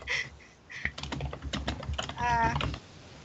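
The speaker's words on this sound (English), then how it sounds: "I hear typing." Rapid clicking of keys on a computer keyboard, steady bursts of typing with a brief pause, close by and fairly loud.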